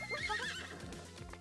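A horse whinnies and its hooves clip-clop in the Miitopia video game, a bright rising neigh over steady, rhythmic hoofbeats, close and fairly loud with no talking.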